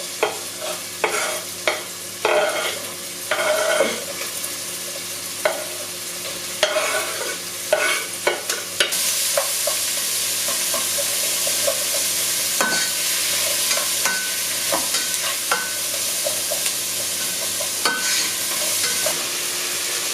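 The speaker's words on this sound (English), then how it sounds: "now I'm going to put in my chopped onions." Chopped onions for pumpkin soup hit a hot pan, starting with a string of stirring scrapes and knocks, then settling into a loud, steady close sizzle that carries on alone with occasional clinks.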